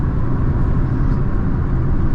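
Engine of a Holden JE Camira, an old car, surging under full throttle: a loud, steady low rumble that runs continuously from inside the cabin, with no talk over it.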